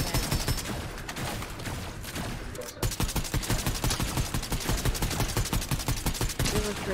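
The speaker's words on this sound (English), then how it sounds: "Oh, I'm getting shot." Rapid bursts of automatic gunfire in a Fortnite match, dense continuous rattling shots that pause briefly and then resume, loud and close, with a player's voice faintly audible underneath.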